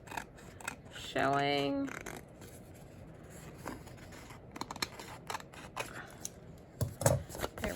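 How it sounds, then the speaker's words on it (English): Scissors snip and trim excess paper from handmade faux stained glass flip-out craft pages, with a close, crisp run of cuts early on and a few scattered clicks and rustles afterward, while a voice speaks briefly. "Gonna trim off any excess I see"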